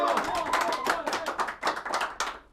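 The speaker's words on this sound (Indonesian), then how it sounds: "tepuk tangan dulu dong." A few people clap their hands in a small room, giving a short, uneven burst of separate claps close to the listener during an Indonesian talk show about football.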